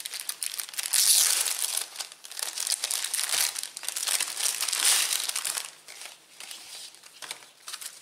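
A package of small gift pouches is opened, giving loud, close crinkling and crumpling of plastic wrapping in repeated bursts, fading to quieter rustles toward the end.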